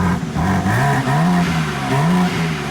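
A 2023 BMW M3 on its stock exhaust, heard from behind the car, revs several times in short rising and falling pulses over a steady idle drone, loud and near, with no talking.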